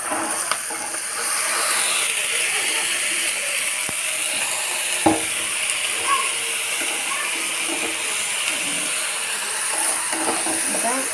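Mixed vegetables of potato, eggplant, green tomato and flat beans hit a hot frying pan for a shukto-style dish, giving a steady broadband sizzle and hiss that runs throughout with small clinks and stirring.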